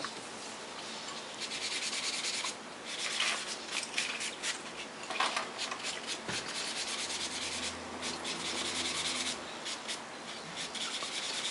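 Fine abrasive paper rubs against the outside of a precious metal clay ring in quick, light scratchy strokes, close and fairly soft, with brief pauses between passes.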